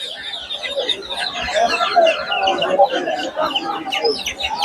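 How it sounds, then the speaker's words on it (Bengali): Desi chickens and young chicks at a busy rural livestock market, clucking and chirping continuously at close range amid crowd chatter and background voices. "33 দিন বয়সের দেশি মুরগির বাচ্চা"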